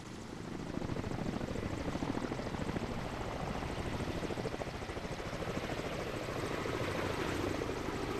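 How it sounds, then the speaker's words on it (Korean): A firefighting helicopter lifts off for a wildfire, its rotor chop a steady, loud, close thumping that holds from start to finish with no voices. "불길을 잡으러 헬기가 날아오른다."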